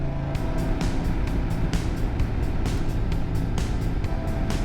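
A motorcycle pulls away and cruises along US Highway 16 in South Dakota, a steady close engine drone with rhythmic pulses and wind rush throughout, no talking.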